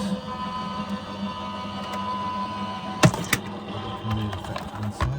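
A papercraft cutting machine feeds paper through with a steady whirring hum, broken by a few sharp cracking snaps near the end, close and moderately loud.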